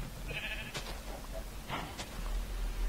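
Sheep in the Minecraft video game bleat twice, each call short and wavering, heard clearly over a low steady background hum.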